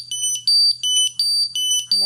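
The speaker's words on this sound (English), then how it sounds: "Again, I'm getting the alarms here. So they are lighting up." A Ventis MX4 gas detector sounds its alarm during a bump test, giving a rapid run of shrill, piercing beeps in regular bursts close to the listener, with a faint voice at the very end.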